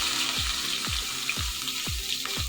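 Cumin seeds and chopped onion fry in a pan, a continuous close sizzle broken by regular scraping strokes of a spoon about every half second.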